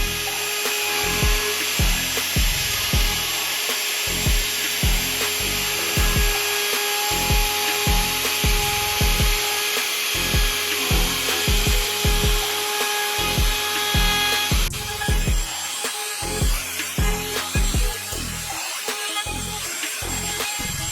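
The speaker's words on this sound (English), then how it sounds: "That little bit of routing I did made that much sawdust." A wood router cuts the edges of a wooden frame being built to protect pop-up irrigation emitters, a steady high-pitched whine running loud and continuous, with repeated rhythmic dips and surges as the bit bites along the wood.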